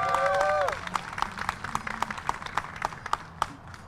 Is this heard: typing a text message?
no